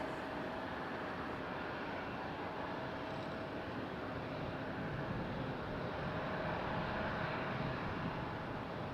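A Southwest airliner takes off from runway 5 right at Raleigh-Durham airport, a steady distant engine roar with broad rumble holding evenly throughout.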